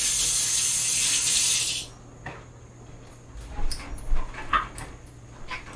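Tap water rushes hard onto a knife in a kitchen sink for a couple of seconds and then cuts off. Small clinks and handling noises follow, close by.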